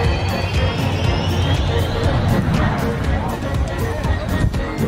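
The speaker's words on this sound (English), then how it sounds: "If you ever wondered what happened if you sat behind a jet," A jet's engines roar from directly behind the aircraft, a loud sustained rumbling blast with a rising whine, while people talk and shout over it.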